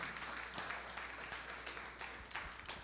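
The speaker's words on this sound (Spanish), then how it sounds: "Denle un aplauso al Señor en esta noche." A church congregation claps in a sustained round of applause, many hands patting at a quick irregular pace, fairly faint and steady throughout with no voices over it.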